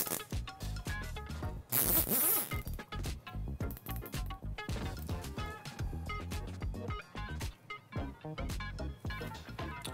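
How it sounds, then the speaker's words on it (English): Plastic zip ties ratcheting tight around a bundle of cables, a rapid series of close, crisp clicking zips in quick bursts, with one louder, longer pull near the start. "Zip tie them together, like so, and then space it out with your second zip tie."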